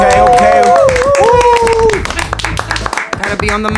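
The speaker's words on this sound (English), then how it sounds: "Everybody clap it up" A small group claps together to open a podcast episode, the handclaps fairly close and steady while several voices talk and call out over them.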